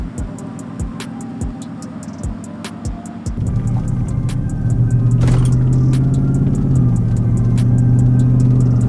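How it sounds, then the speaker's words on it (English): A pickup truck fitted with Versatyre MXT mud tires drives along a road. A few sharp clicks come first, then a steady low tire and engine rumble rises and holds loudly inside the cab. "Let's take a drive so you can actually hear the road noise."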